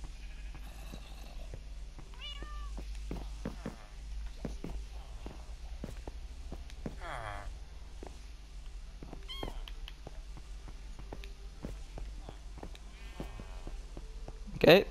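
Cats meow in a video game, several short, faint mews scattered across a low steady hum, mixed with light clicks and footstep-like taps and a brief louder burst at the very end.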